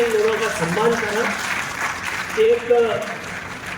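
Audience applause at a public honouring ceremony for local dignitaries, a steady wash of clapping running under someone speaking over a microphone throughout.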